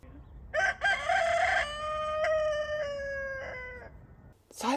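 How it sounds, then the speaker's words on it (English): Roosters crow in the early afternoon, around two o'clock, with several loud, drawn-out calls close by that overlap one another and then trail off before a brief noise at the end. "there's roosters crowing while I'm trying to record this video"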